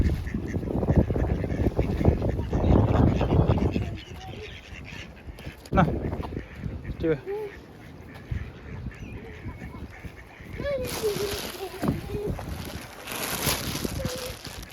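Ducks quack repeatedly amid outdoor chatter, the calls scattered and moderately close, with people talking loudly at first and a brighter noisy stretch near the end.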